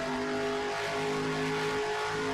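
A race car engine in a racing sim video game holds a constant, loud revving drone with slight pitch shifts, heard alone without voices.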